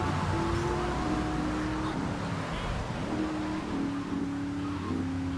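Car driving in GTA 3 Definitive Edition, a steady engine drone with shifting tonal revs and gear changes, continuous and fairly loud, with occasional game sound layered in.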